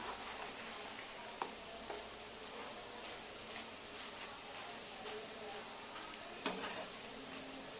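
Rice flour and besan murukku fry in oil over a slow flame, giving a steady, dense sizzle and bubbling throughout, with a few faint clicks of a utensil.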